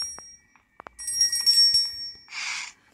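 In the Granny video game, a bright metallic bell rings out clearly after a few soft clicks, its high tones sustaining before a second burst of ringing near the end.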